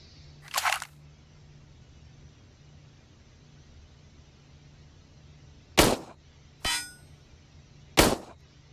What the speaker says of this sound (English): now I'm going to throw a couple rounds at a 200 meter target